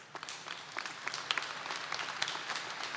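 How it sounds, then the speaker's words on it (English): Audience applause at a Fall 2020 College of Nursing and Health Professions commencement ceremony, steady broadband clapping from a moderate crowd at middle distance, with a few sharper individual claps standing out through the full stretch. "Big round of applause."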